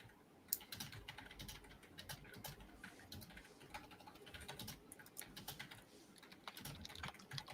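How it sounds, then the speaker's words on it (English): Steady rapid typing on a computer keyboard, picked up by a webcam microphone, with quiet irregular clicks running throughout and faint bird cooing in the background. "I think we can hear you typing"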